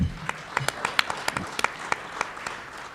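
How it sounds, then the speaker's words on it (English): A debate audience at a Nevada legislative candidate event gives a short round of applause, a steady spread of clapping with distinct louder claps throughout. "Let's give a big round of applause for Ray Rocha."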